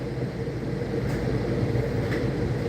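Inside a commuter train bound for Penn Station, a steady low rumble and rolling hum of the moving carriage continues evenly throughout, with faint rail squeaks and no speech.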